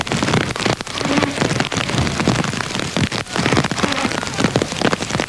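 Heavy rain pelts down on a stage of the Paris-Moscow-Beijing rally raid, a loud, dense, continuous roar of drumming drops with surging gusts and no voices.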